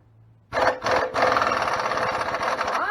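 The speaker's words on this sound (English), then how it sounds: "take out the old trusty half-inch drive Aircat 1150" A half-inch drive Aircat 1150 pneumatic impact wrench works on a castle nut at the front hub of a Micro-Pig 12. It starts with a short burst, pauses briefly, then hammers in a loud, sustained, rattling run up close.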